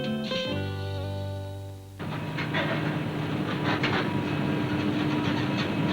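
An iron ore train on the Pilbara's long private railway sounds a sustained, chord-like horn, then its loaded wagons roll past with a loud, steady rumble and rhythmic clickety-clack.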